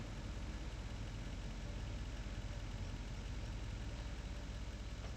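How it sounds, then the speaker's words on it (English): A tractor engine idles in Farming Simulator 25, a constant even mechanical drone with a faint rhythmic chug, steady and unchanging throughout. "we'll take a tractor and leave that running so the brakes are locked down."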